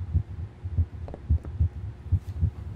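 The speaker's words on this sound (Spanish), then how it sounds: "se oyen como latidos" A slow, regular heartbeat thudding in the background of Psychonauts, with about six or seven soft, deep paired beats under a low hum.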